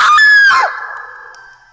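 A woman's short, shrill scream used as a horror story sound effect, rising sharply, then trailing off into a fading wail that lingers alone for more than a second.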